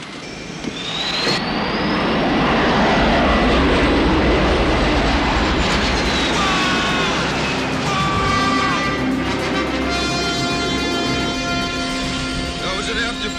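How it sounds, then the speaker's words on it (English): A jet aircraft making an afterburner takeoff, a loud broadband roar that swells quickly and stays powerful with whining tonal engine overtones, with voices heard over the noise. "That was an afterburner takeoff."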